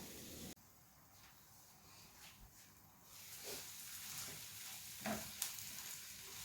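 Chopped tomatoes for sambar sizzle and fry in a pan. Stirring adds scraping, shuffling bursts over a steady close hiss.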